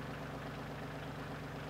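A Kioti tractor engine runs steadily at a low idle while the machine eases backward into position to hitch a backhoe, a continuous close rumble with no talking.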